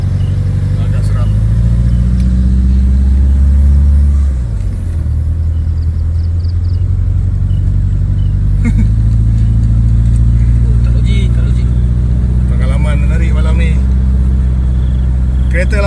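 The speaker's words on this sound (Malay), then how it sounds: "Kereta lama, tapi tak pasti kereta jenis apa, tapi memang kereta lama." An old car drives along a track in a forest, its engine rumbling loudly and close, the pitch dropping and rising as it shifts and moves, with voices heard at times over the engine.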